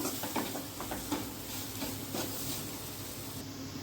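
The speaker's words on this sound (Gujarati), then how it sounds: "હવે તેમાં આપણે એક વાટકી દૂધ ઉમેરી દઈશું થોડીક વાર માટે એને મિક્સ કરી લઈશું" Milk is poured into semolina and milk powder roasting in a pan over a low flame for sooji modak, with a soft steady sizzle and hiss and the quiet scrape of stirring.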